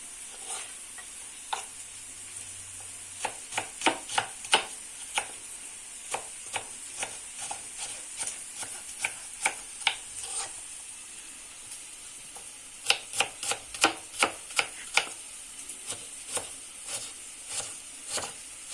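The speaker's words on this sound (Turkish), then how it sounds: "Soğanlarımızı hemen doğrama aşamasına geçelim." Quick, crisp knife chops dice onions on a cutting board in bursts of rapid taps over steady sizzling of frying liver, pausing briefly between runs.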